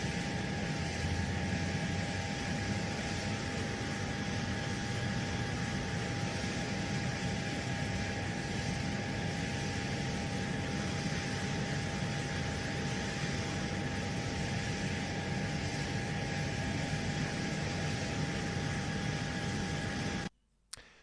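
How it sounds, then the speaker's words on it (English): Military helicopter footage carries a steady, unbroken engine roar with a jet-like whine and a constant broadband hiss, loud and uniform throughout with no talk, cutting off abruptly at the end. "it doesn't sound like a helicopter. Now, I'm not an aviation expert or anything, but it does sound more like a jet engine to me"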